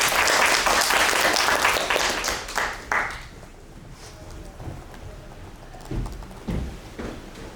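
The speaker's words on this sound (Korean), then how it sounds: "박수 한번 쳐주시고." Lecture-hall audience applause in a university HCI class, a dense wash of hand clapping for about three seconds that thins into a few scattered claps and fades out, with no talking.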